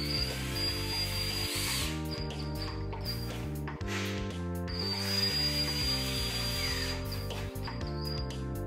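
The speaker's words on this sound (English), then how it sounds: "buffer panels are mounted by screwing them on the metallic structure." Plasterboard radiant heating panels screwed onto a metal ceiling structure, a power screwdriver whirring steadily through two long drive-ins in a row, loud and close, with a brief pause between them.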